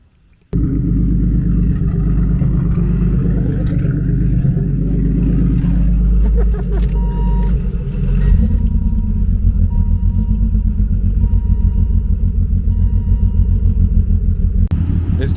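BMW E36 convertible engine starting up, then a loud, close, steady low rumble as it idles and runs for the rest of the stretch, with brief talk over it.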